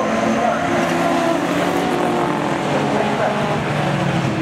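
Racing cars roar off the start at Snetterton circuit, a dense, continuous engine rumble that stays loud and steady throughout without a break.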